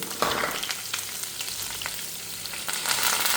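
Chopped ginger, garlic and green chillies fry with whole spices in hot oil, giving a steady close sizzle with faint stirring scrapes throughout, no voices.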